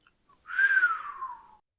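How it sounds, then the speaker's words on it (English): A single clear whistle from a person, a short descending tone lasting about a second, close and isolated in silence. "Whistles, shakes head."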